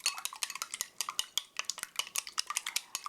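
Eggs are whisked briskly in a bowl, yolks broken first, as rapid rhythmic clicking taps of utensil against bowl repeat about five or six times per second, close and dry, with no voices.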